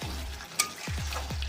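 Chicken being stirred and fried in a pan for a village-style chicken kosha makes a quiet, steady frying hiss with several low scraping stirs spaced through the moment.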